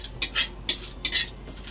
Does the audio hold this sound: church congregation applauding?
no